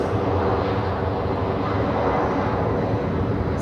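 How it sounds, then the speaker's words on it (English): An Emirates Airbus A380 on short final for runway 14 at Zurich Airport gives a steady, broad jet roar that stays loud and constant throughout, with no talking. "it's time for the Emirates A380. Here it is on short final for runway 14"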